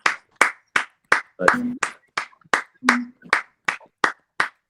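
Rhythmic hand clapping during an online worship session acclaiming Jesus, about a dozen sharp evenly spaced claps, close and loud, with a short spoken interjection and a brief voiced sound between them.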